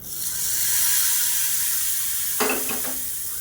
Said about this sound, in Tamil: இப்போ எப்பயும் போல் கடுகு, உளுந்து, கருவேப்பிலை,